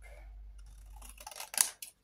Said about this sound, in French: je prends mon grand ciseau